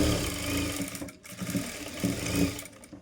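A sewing machine stitches a katori blouse in short, close, whirring bursts with a rhythmic mechanical chatter.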